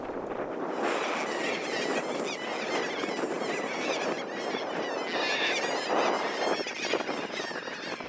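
Hundreds of nesting gulls on a small spoil island call at once, a dense, continuous chorus of overlapping squealing cries, fairly faint and distant, with wind noise underneath and no talk.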